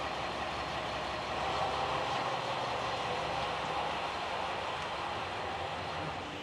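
Steady rumbling ambience at a local train station in Shikoku, Japan, a dense continuous roar of engines and machinery with no clear breaks, moderately loud.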